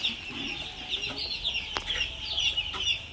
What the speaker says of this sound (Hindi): और ये जो चिक्स आप देख रहे हैं, डे ओल्ड चिक्स,